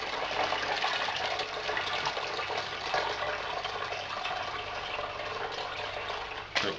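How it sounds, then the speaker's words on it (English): Liquid pours steadily from a brewing kettle after removing the grain bag while making a schwarzbier, a continuous splashing gush of wort draining without pause, ending with a brief clunk. "I'm going to drain a bit."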